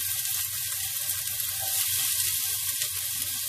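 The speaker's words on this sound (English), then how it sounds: "after it's heated, I'm going to put the shallots." Shallots frying in heated oil in a pan, cooked for fried rice noodles, giving a steady, dense, close sizzle that holds evenly throughout with no talking.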